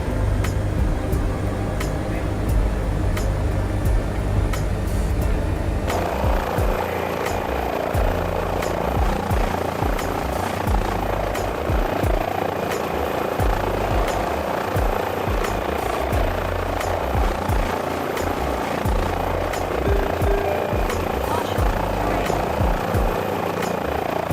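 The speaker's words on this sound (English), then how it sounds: "And shut the helicopter down" Airbus H145 helicopter in Microsoft Flight Simulator 2020, its engine and rotor droning loudly and continuously, with a shift in the whine early on and steady turbine noise throughout.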